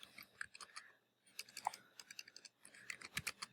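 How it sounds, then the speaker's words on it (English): Keys on a computer keyboard tap in quick, irregular bursts with brief pauses, close and fairly quiet, as an answer is typed out. "you're going to click in this space and start typing your answer."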